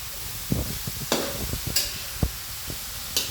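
Grated carrots are sautéed in a pan for carrot halwa, a spoon scraping and tapping in an irregular rhythm over a faint, steady sizzle, heard close with no talk.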